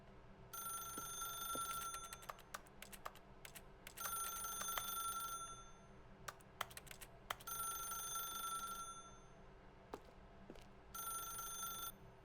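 An old-fashioned telephone bell rings in The Stanley Parable video game, several bursts of jangling rings separated by pauses and scattered clicks, faint and somewhat distant, with no talking.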